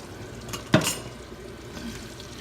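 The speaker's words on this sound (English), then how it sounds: "I'm going to just swish it back and forth so we don't burn it" Garlic in about a stick and a half of butter sizzles softly in a pan on less than medium heat, with one clear scrape of a spatula stirring it.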